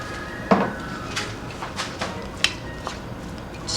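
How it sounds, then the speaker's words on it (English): Eggs with black pepper being mixed in a bowl, heard as several sharp utensil clinks and taps against the side, irregularly spaced over a quiet background with no talking. "Just mix all together."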